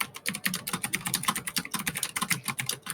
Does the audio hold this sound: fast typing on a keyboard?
yes